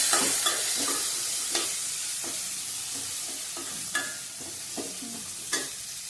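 Spices and vegetables fry in hot oil for a traditional Sankranti Bhogi bhaji, a soft continuous sizzle broken by sharp scrapes and clicks of a spoon stirring the pan every second or so, close by with no talking.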